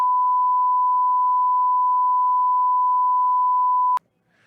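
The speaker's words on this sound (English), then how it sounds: "the master will only play the beep" A steady, loud pure-tone censor bleep generated in vMix runs unbroken for about four seconds, then cuts off abruptly, leaving near silence.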